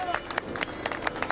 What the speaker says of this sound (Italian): Parte l'applauso.